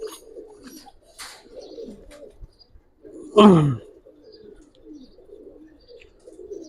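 Pigeons coo in a loft of quality breeding birds, a soft low cooing running throughout with one louder, closer burst of calls in the middle.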